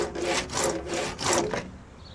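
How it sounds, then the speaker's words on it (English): A handsaw cuts a section of water pipe for a rainwater tank installation, making about four quick back-and-forth rasping strokes up close, each a scratchy burst, with no voices. "All I have to do is cut a section of pipe to go from A to B."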